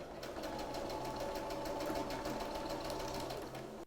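A sewing machine stitches around the curved neckline of a princess-style dress, running in a steady, fast mechanical hum with rapid rhythmic needle ticks, close up and uninterrupted before stopping at the end.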